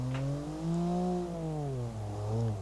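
A tiny sub-one-liter car engine in the BeamNG.Drive driving game revs high, a strained whine that swoops up and down in pitch, steady and fairly close with no voices.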